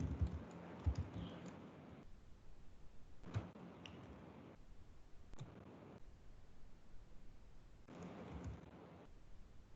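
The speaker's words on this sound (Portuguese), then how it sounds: "Eu vou digitar o comando, tá?" Faint keyboard typing as a command is entered on a computer, in a few short clusters of quiet key clicks separated by pauses.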